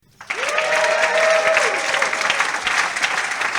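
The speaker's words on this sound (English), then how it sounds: "let's have a show of applause" Audience applause at an investors' summit held aboard a cruise ship, a big, dense burst of clapping that starts abruptly and holds steady near the front, with a faint whistle rising briefly over it.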